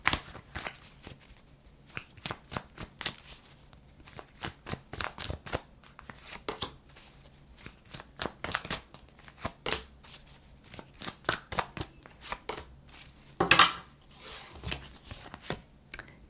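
Tarot cards are shuffled repeatedly in quick, crisp riffling bursts, close by, with a sharper flurry near the end and no talking.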